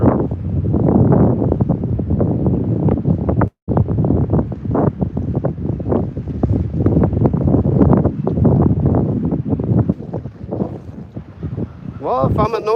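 South wind buffeting the microphone on open water during a fishing trip, a steady loud rushing roar with gusty swells, while a person talks over it throughout.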